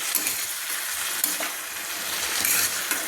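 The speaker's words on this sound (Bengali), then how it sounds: "একটু জল দিয়ে কিন্তু আমি গুঁড়ো মশলাগুলো দিয়ে আমি নেড়ে একটু কষিয়ে নিচ্ছি" Prawns and ground spices stirred and fried in a pan with a little water, giving a steady close sizzle with soft scraping stir strokes throughout, no voices.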